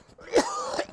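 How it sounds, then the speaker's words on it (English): A single throat clearing during a local talk show broadcast: a short rasping burst followed by a second harsher scrape, close and fairly loud, with no talk over it. "Sorry about clearing my throat"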